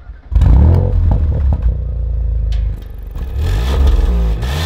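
A 2018 Audi RS5 starts up with a sudden loud crank and catch, then settles into a deep, rumbling idle with a brief rev swell, close by and dominant, no talking over it.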